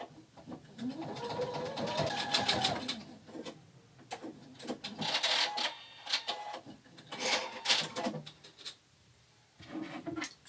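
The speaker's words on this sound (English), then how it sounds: "Now we're going to take and sew on either side of this line and on either side so it looks like it's quilted." A sewing machine stitching lines on a pocket quilt, running in several short mechanical bursts of rapid whirring separated by brief pauses, close and moderately loud.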